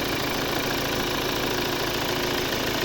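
A 2016 Volvo V60 2.0 D4 diesel engine idles close by, a continuous low rumble with a faint rattling knock and no voices.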